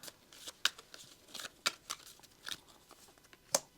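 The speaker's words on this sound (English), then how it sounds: "draw 2 cards, you've got to reshuffle" Playing cards for the board game Undaunted: Stalingrad being shuffled, with soft riffles and crisp snaps at irregular intervals, close by and fairly quiet.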